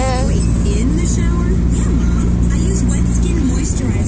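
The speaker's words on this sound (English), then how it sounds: "My dad's driving right there." Car interior while driving, a loud continuous engine and road rumble that stays steady throughout, with faint higher whine above it.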